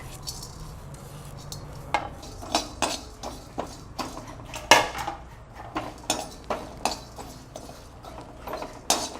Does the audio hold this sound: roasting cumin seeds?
yes